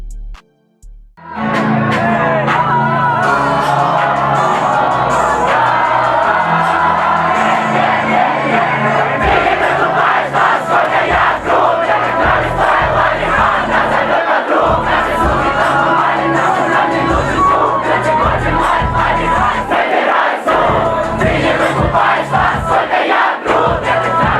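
Large concert crowd singing along en masse to a rapper's track at a show, a loud, dense wall of voices and shouting that continues steadily after a brief quiet opening.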